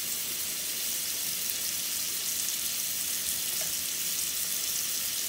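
A hamburger patty mixed with onions fries in a pan, giving a steady, dense, close sizzle that runs unbroken throughout with no voices.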